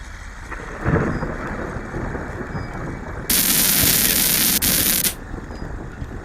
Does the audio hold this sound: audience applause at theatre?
no